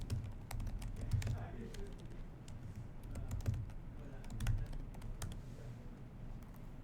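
Computer keyboard keys clatter in quick irregular bursts as login details are typed, close and clear with small pauses between runs of keystrokes, and no voice over them.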